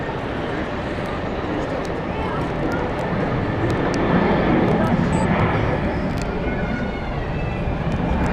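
A SunExpress airliner arriving at Zurich Airport makes a steady distant roar that swells slightly midway, heard from an observation deck under broadband background noise.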